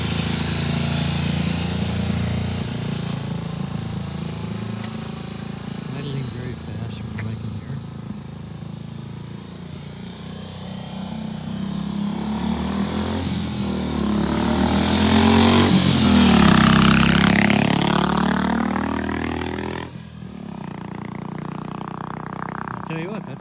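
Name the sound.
motorcycle engine idling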